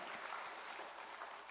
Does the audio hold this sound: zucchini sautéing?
no